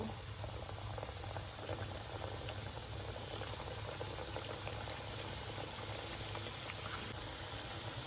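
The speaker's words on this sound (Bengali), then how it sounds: "একইভাবে সমস্ত লুচিগুলো ভেজে নেব" Luchi, soft puffed Bengali fried bread made with palm fruit, frying in hot oil: a quiet, continuous bubbling sizzle with a faint crackle, fairly distant and steady.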